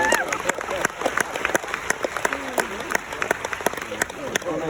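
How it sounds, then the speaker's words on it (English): A cruise ship show crowd breaks into lively applause, sharp individual claps standing out near the front over a busy wash, with voices and cheers mixed in. "let's give her a big round of applause"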